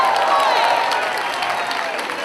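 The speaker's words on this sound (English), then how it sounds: "Round of applause for the sponsors," Convention audience applauding the sponsors at an opening ceremony, a loud wash of clapping and crowd noise with some whistling or cheering tones mixed in, fading slightly toward the end.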